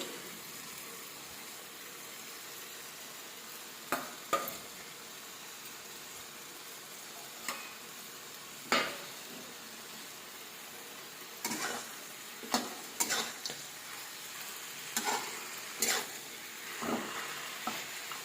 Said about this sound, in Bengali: এবার একটু নাড়াচাড়া করলে আমার শাক ভাজা হয়ে যাবে